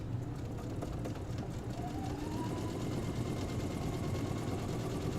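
Sewing machine chain piecing fabric, a continuous low mechanical hum and rattle running steadily throughout at moderate level, with no talk.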